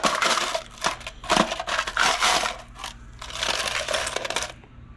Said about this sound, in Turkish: Şöyle 4 dolarlık da bozuk para var burada